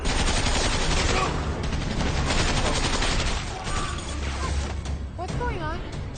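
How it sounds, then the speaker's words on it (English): Gunfire erupts in an action film rescue scene, a dense, loud barrage of rapid shots and bursts continuing throughout, mixed with crashing impacts and shouted voices. "who's shooting?"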